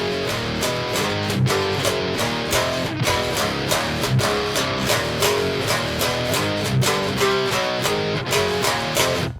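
Distorted electric guitar riff in power chords from a song, a dense, steady and loud chugging pattern with a full band-like wash and no talking.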